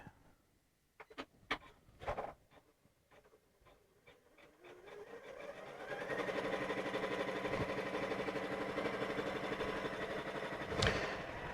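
A Janome 550E embroidery machine stitches a design into fabric, starting with a few scattered taps and clicks before settling into a steady, fast mechanical whirring that runs continuously to the end.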